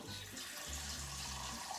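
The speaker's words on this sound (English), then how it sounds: "I'm going to get 2 liters of water in the pot" Tap water runs from a filtered sink faucet into a cooking pot, a soft steady splashing stream heard at low level, alone without talk.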